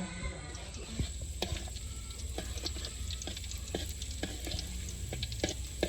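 Eggs frying in a pan, a faint steady sizzle broken by scattered clicks and scrapes of a utensil, no speech.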